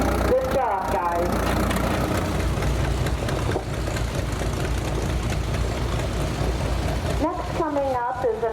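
Antique farm tractor engine running steadily in an outdoor parade at the Mercer County Antique Power Association tractor show, a continuous low idling rumble with a public-address announcer talking over it throughout.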